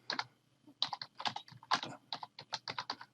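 Quick keystrokes on a computer keyboard as a message is typed, close and clear, coming in uneven bursts with brief pauses between runs of clicks.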